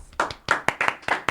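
A few people clap close by in a small, sparse burst of about seven distinct hand claps with uneven rhythm, announcing a youth leader.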